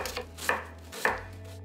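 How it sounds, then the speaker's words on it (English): A knife chops an onion on a board, giving two distinct, close, crisp strikes roughly half a second apart over a low background hum. "chop the onion."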